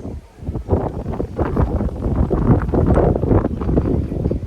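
Strong gusty sea wind on the coast of Batangas, Philippines, buffets the microphone in broad, rumbling waves, loud and continuous with no talking.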